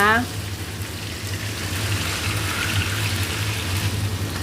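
Marinated pork frying in hot oil on high heat with a constant crackling sizzle; a voice speaks briefly at the start.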